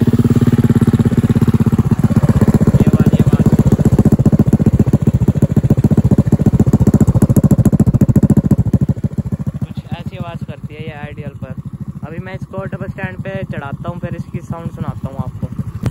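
A Honda Activa scooter fitted with a modified SC Project exhaust idles loud and close with a rough, throbbing drone. The engine note drops after about eight seconds, and someone talks over the quieter idle.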